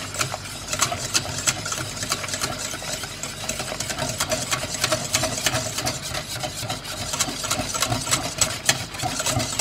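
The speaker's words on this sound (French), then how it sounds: "il y a la machine qui est en train d'essorer." A washing machine on its spin cycle gives a steady, moderately loud mechanical whir with a rattling hum that holds constant throughout.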